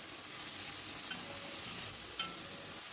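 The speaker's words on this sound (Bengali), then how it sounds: "সব কিছু আবারও ভালো করে মিশিয়ে নিচ্ছি" Onion, ginger-garlic paste and chopped tomato being stirred in a hot pan, a continuous close sizzle with faint scraping of the spoon.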